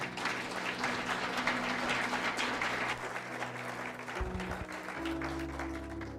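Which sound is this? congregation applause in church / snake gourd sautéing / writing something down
congregation applause in church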